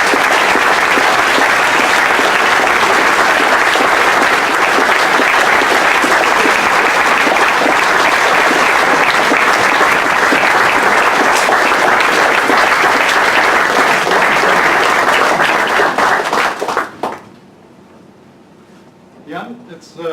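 A lecture hall audience claps after a university valedictory lecture, loud and sustained for about seventeen seconds before cutting off abruptly, leaving near silence with faint room noise.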